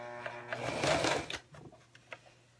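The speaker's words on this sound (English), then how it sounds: "So I'm just top stitching right along." Sewing machine top stitching along a long zipper piece, a steady whirring run that swells loud for about a second, then tapers off into softer, short bursts and pauses.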